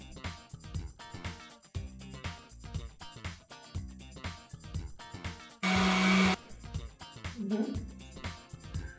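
A blender whirs loudly for under a second while blending acorn squash soup with coconut milk, a brief burst of motor noise set against steady background music.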